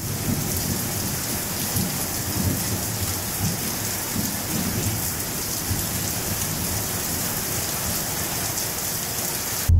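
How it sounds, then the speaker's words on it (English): Steady heavy rain pouring down alone in a thunderstorm, with rumbling thunder underneath and a little hail mixed in, a dense continuous hiss throughout. "Yesterday, pouring rain."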